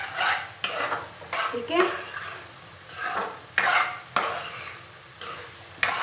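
Maghaz (brain) masala frying in oil and being stirred in a pan, with loud sizzling and repeated scraping strokes of a spoon against the metal, close up, and a brief word spoken.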